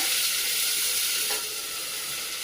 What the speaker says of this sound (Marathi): आता आपण लगेचच ही आळूची पानं परतून घेणार आहोत